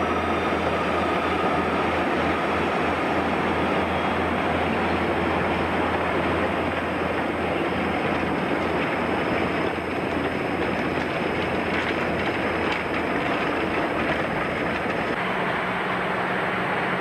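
SNCF diesel locomotive 65000 shunting a rake of empty wagons at a factory siding, a steady loud rumble of engine and rolling stock that fills the whole stretch without a break.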